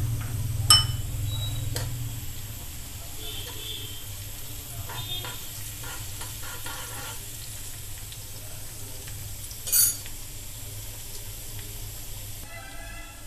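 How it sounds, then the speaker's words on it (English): Twenty chopped garlic cloves fry in two tablespoons of hot oil, a faint continuous sizzle with occasional ticks and clinks of a utensil, plus a low hum in the opening seconds. "add 20 chopped garlic cloves to it and fry them till golden brown"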